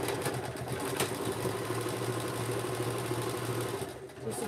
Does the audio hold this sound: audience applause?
no